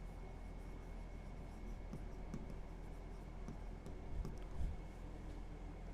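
A function written out by hand during an algebra lesson on limits, faint scratchy pen-on-paper strokes in short bursts, close but quiet, over a low background hum.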